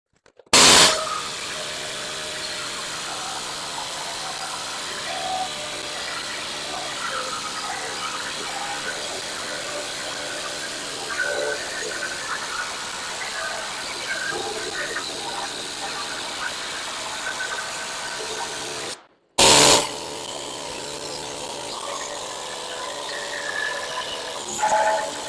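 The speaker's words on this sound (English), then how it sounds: "so we've got most of the needle scaling done" A needle scaler chatters continuously against metal, knocking scale off in a dense rapid rattle that runs for long stretches and stops briefly once before resuming.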